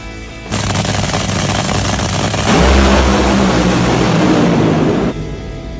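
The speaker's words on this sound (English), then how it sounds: "the top fuel cars are a little loud for Wyatt." Deafening, crackling engine roar of top fuel drag racers blasting past, a harsh thunderous wall of noise that builds, then cuts off abruptly.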